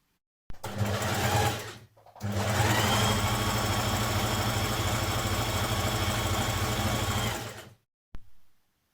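A sewing machine stitches around a coat pocket piece, with a short run, a brief pause, then one long steady run of rapid needle chatter, close and loud with no voices.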